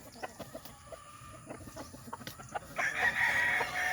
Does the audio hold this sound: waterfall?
no